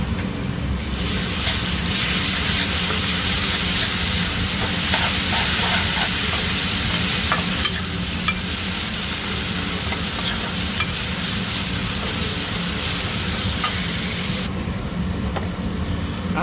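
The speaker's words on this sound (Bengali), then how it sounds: "আদা রসুন পেস্টও ভাজা হয়ে গেছে।" Ginger garlic paste fries in a pan for crab malai curry, a loud, dense sizzle with scraping stirs running steadily throughout, close and without voices.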